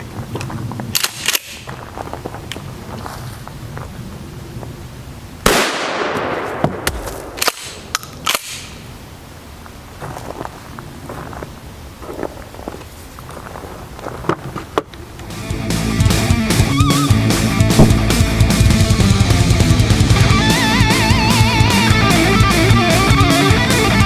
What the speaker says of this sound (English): see what the 12 gauge is going to do in terms of blunt force trauma with the Trama Pad behind it